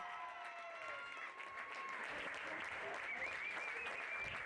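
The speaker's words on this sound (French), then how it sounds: "on peut les applaudir bien fort" A crowd claps at a pony games prize ceremony, producing a steady, fairly distant wash of applause. A voice speaks and faint whistles and tones sound over it throughout.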